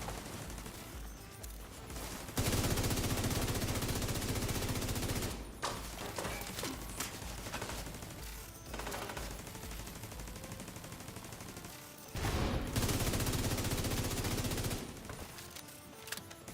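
Gunfire from The Division 2 rattles off in sustained automatic bursts with short pauses between them, loud and close, and a couple of single shots land near the end.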